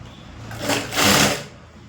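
A sewing machine stitches a four-dart blouse in a short burst, its motor whirring up loudly, easing briefly, then surging again before slowing, heard close and without talk.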